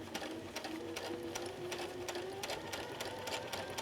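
Sewing machine fitted with a gathering foot ruffling fabric, running steadily at a moderate level with a fast, even needle clatter and a low motor whine, and no talking.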